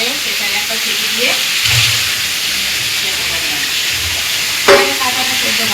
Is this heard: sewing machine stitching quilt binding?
no